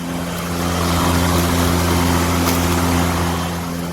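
A Bosch AdvancedRotak 750 electric lawn mower runs with a steady, humming motor drone and a faint whirring rush, swelling slightly in the middle before easing off, close by with no talk.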